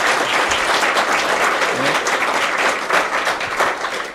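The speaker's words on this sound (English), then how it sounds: "give a huge applause again to Frank" An audience at a technical expert session applauds a speaker, loud continuous clapping from a crowd filling the space with a dense, even roar of hands.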